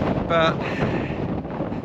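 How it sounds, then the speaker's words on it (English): Strong wind buffets a handheld camera microphone on an exposed Tasmanian mountain near Hobart, a loud, steady rumbling roar that runs the whole time, with a brief spoken word over it. "that wind, it was almost blowing the camera out of my hand"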